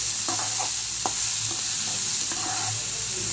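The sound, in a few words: sautéing onions until golden fried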